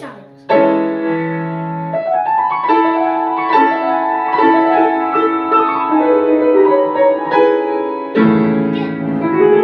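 Piano playing a passage from Beethoven's Piano Sonata No. 14, the Moonlight, with sustained chords and a moving melodic line rising through the phrase, clear and close with no talking over it.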